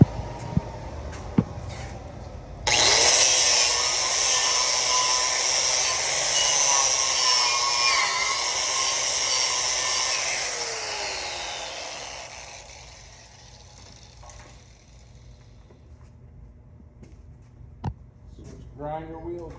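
Grinder grinding down a stick-welded pipe weld, a loud harsh continuous whine starting suddenly and running for about ten seconds before fading into quieter shop noise.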